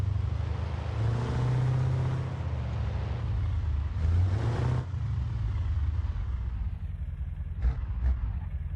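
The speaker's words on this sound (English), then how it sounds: "Oh, you're brave sending that bus through there." A bus driving in the BeamNG video game, its engine a steady low rumble that swells briefly in the middle, with a couple of short knocks near the end and no talk.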